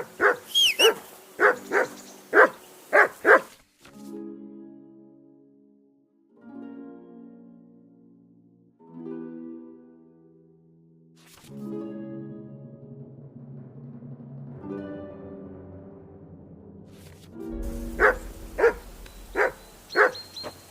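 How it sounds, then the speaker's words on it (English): A dog in Kingdom Come: Deliverance 2 gives a burst of five or six loud, close barks. A long tonal stretch of music or whining follows, then another quick run of sharp barks. "That barking was a pain in the ass"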